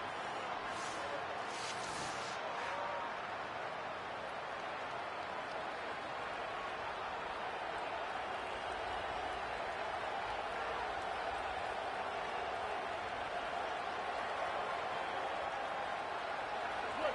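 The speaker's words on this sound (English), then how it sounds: "This crowd ready to make its presence known." A high school football crowd at a Collinwood Railroaders vs John Marshall game makes a steady, distant roar across the stands, with a brief burst of cheering near the start and a commentator talking over it throughout.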